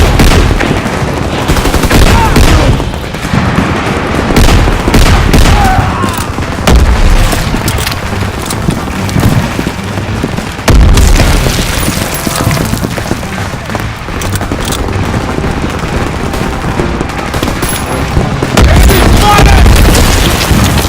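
Bursts of rifle and machine-gun fire mix with heavy grenade explosions in a Call of Duty WWII battle along the Rhine, a loud, dense barrage of rapid shots and booming blasts that continues without a break.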